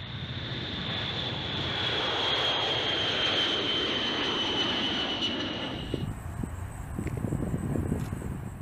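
Jet engines of an eight-engine US bomber roar steadily through a takeoff run with a high turbine whine, loud and continuous, easing off toward the end.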